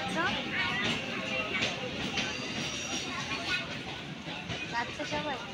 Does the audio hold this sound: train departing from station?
yes